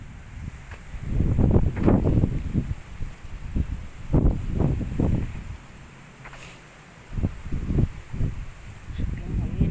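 Strong wind buffeting a microphone outdoors during a midday walk, low rumbling gusts rising and falling in uneven bursts, with faint rustling between them.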